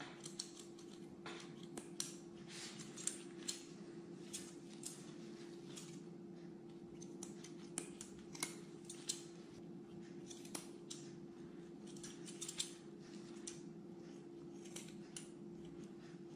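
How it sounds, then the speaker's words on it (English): Scissors snip steadily through dense matted hair that sits close to the skin, a quiet run of small crisp clicks and cuts over a steady low hum, with no talking. "I'll try to do this area with scissors"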